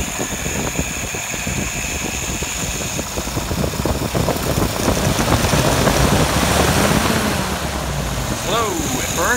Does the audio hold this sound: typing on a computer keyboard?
no